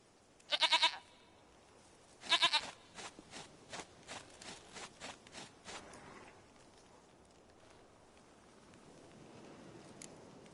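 Goat bleating in The Witcher 3, two sharp nasal bleats up close, then a run of softer rhythmic patter-like sounds fading into quiet ambience.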